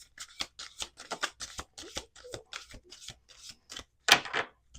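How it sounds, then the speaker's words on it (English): A deck of oracle cards is shuffled on a table in quick, light riffling and slapping bursts, close and quiet, with one sharper snap near the end. "I'm going to do 2 more shuffles"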